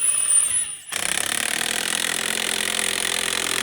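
An AGM Manual Jack PRO working under a Can-Am Commander side-by-side, giving a steady, close mechanical whirring and rattling drone that starts abruptly after a brief quiet moment and runs on evenly.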